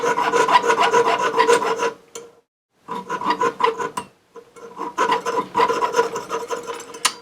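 A jeweler's saw cuts through a silver ring blank clamped in a vise, making close, rapid, rhythmic rasping strokes in three bursts separated by brief pauses, with no talking.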